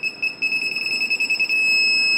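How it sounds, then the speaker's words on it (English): A wheelchair obstacle distance sensor beeps steadily at a high pitch, speeding into a rapid, nearly continuous tone as an object gets closer, loud and close, with no voices. "as I get closer to them, in theory it's going to show a different distance. So let me put my hand up here, and as you can see, the closer I get, the quicker it starts beeping"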